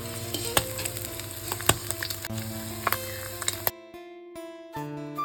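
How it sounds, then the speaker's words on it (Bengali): Steady, loud sizzling of fish frying in oil for a spicy fish chorchori, with scattered pops and clinks, then the sizzle drops away sharply near the end. "সেম প্রসেসে সমস্ত মাছগুলো ভেজে নেব"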